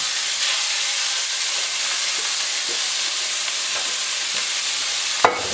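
Frozen spinach sizzles in hot olive oil in a pan, a steady bright frying hiss with faint stirring scrapes, ending in a short sharp clatter near the close.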